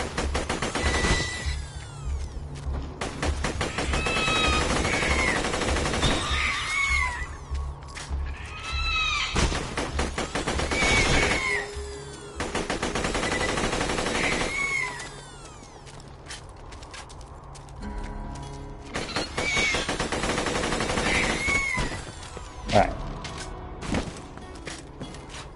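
Borderlands 2 gameplay with a spin-up gun cutting loose in long, rattling bursts of rapid fire, separated by brief lulls, loud and close throughout.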